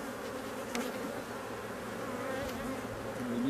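Honey bees buzzing in a steady, dense drone close by around a hive frame, with no voices.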